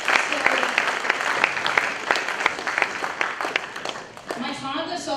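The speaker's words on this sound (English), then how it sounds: "Good round of applause." Audience applause at a large career guidance programme, steady dense clapping from many hands that thins out toward the end, with a voice talking over it.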